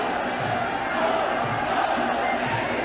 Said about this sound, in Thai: ถึงเชียร์กระหึ่มแล้ว แรมโบ้ยังเรียกเสียงสะท้านแฟนมวยในทั่วสนามเลย